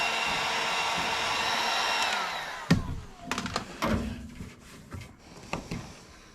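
Hair dryer or heat gun warming a saddlebag emblem on a 1976 Harley Shovelhead, a steady close blowing hiss that cuts off partway, followed by clunks and handling knocks.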